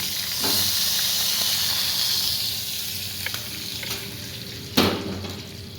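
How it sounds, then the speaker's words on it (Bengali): Spice paste sizzles and hisses steadily in a hot pan of oil after whole fish have been fried, with a couple of sharp louder spits and faint stirring scrapes near the end. "মশলাটা ভেজে নিব।"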